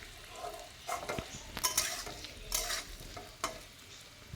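Potatoes sizzle while frying in a pan, with a steady soft crackle and intermittent scraping and clinking as they are stirred, close and moderately quiet.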